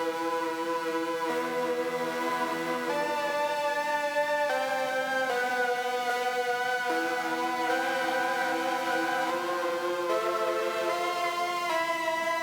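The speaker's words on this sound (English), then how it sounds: "played the synth pattern that's gonna sound like this" A dark, eerie synth pattern from a Serum preset bank, in a Russian post-punk style, plays as sustained tonal chords that step through tense, close-set notes at a steady, loud level with no voices.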